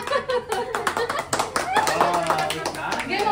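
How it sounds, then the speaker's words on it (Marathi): Hands clap at a birthday celebration in a burst of loud, quick, uneven claps from several people, mixed with voices and children talking nearby. "टाळ्या."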